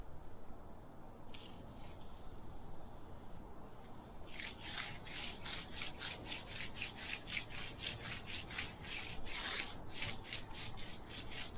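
A magnesium float smooths fresh concrete, filling a small scraped rock hole, with a steady series of close, brisk scraping strokes over a constant low background rumble.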